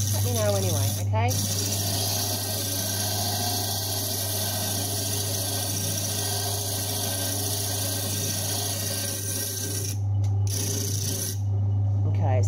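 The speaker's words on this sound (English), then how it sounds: "it can be a bit loud when we're doing this coarse grinding" Coarse grinding of a sapphire pavilion on a faceting machine, a loud continuous hum with a constant low motor drone and harsh grinding noise throughout, briefly dipping near the end.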